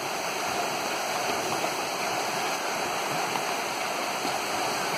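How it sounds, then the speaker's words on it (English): Deep river in Nairn, Scotland running high with tree branches skimming the surface, a steady broadband rush of flowing water, constant and close, without speech. "It's so deep today that the trees are skimming the river."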